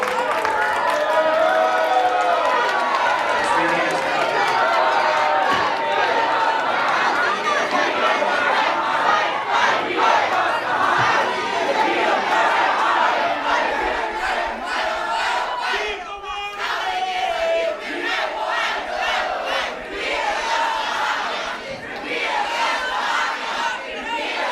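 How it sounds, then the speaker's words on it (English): An angry crowd packed into the California Assembly Housing Committee chambers in Sacramento erupts after the rent control bill AB 1506 fails, a loud, sustained roar of shouting and yelling voices that never lets up. "the crowd immediately erupted in frustration"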